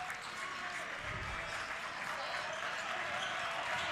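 A basketball crowd and team bench applaud the defense in a gym, with steady, dense clapping throughout and faint voices underneath.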